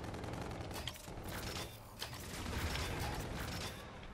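Rapid automatic gunfire from the Claw machine gun in Call of Duty: Infinite Warfare, a steady rattling burst running almost the whole time with mechanical clatter and a brief dip midway, close and fairly loud.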